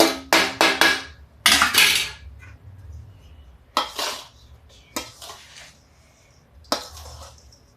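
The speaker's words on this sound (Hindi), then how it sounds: "अब देखिए इसमें हम चीनी भी डालते हैं।" Sugar added to a pistachio and almond laddu mixture in a pan: clattering spoon-on-metal scrapes and knocks in short bursts, close up, with a faint low background hum.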